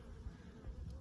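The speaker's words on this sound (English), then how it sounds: "that's clearly honeybees coming in and going out" Honeybees flying in and out of a hive, a faint low buzzing hum of wings that swells and fades briefly outdoors.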